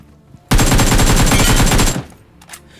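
Automatic gunfire in the mobile battle-royale game BGMI: a loud, close, continuous rapid burst lasting about a second and a half, then quiet.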